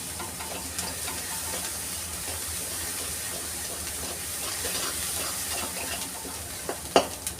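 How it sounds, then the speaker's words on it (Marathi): Dry spices sautéing in hot oil while a pea usal is made, giving a steady low frying sizzle throughout with faint stirring ticks and a couple of sharper clinks near the end. "ह्याला एक छान असं तेलावर आपल्याला परतून घ्यायचं आहे"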